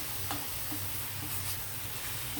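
Grated pumpkin and jaggery frying in a pan for pumpkin halva, with a steady soft sizzle and occasional scraping stirs of a spoon, close and fairly quiet, no talking.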